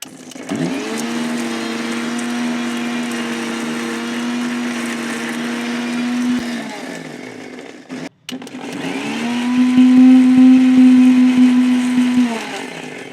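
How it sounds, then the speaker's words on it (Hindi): A blender grinds green chili, ginger, lemon and roasted chana in two long bursts of steady motor whine, loud and close, separated by a brief stop, with no voices. "अभी इसको पीस लेंगे।"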